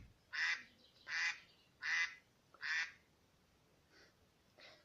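The iPhone duck ringtone plays four loud, evenly spaced quacks, followed by two fainter quacks, with nothing else behind them.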